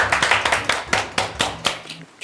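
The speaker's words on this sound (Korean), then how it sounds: "일단 박수 한번 하고" A small studio group claps briefly to celebrate a guest on a talk show, a short burst of close, crisp hand claps in an uneven rhythm.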